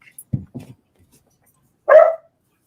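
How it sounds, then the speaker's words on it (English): Dogs barking indoors at a door. A couple of low, short woofs come first, then one louder, sharper bark after a pause. The sounds are close and clear against silence. "Let me let the dogs in."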